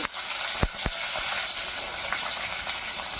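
Urad dal, dried red chillies, onion and curry leaves hitting hot oil, giving a steady bright sizzle and hiss with a couple of sharp pops near the start, close and fairly loud with no talking.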